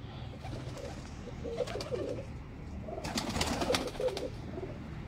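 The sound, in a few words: pigeons cooing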